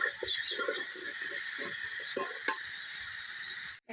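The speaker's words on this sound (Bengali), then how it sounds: "স্বাদ মতো লবণ দিয়ে নাড়াচাড়া দিয়ে ভেজে নেব।" Turnip fries with salt in a hot pan, a steady close hiss and sizzle with soft scraping stir noises, ending in an abrupt cutoff.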